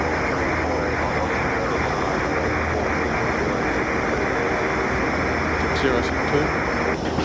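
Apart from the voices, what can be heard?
Grumman Mallard seaplane engines during takeoff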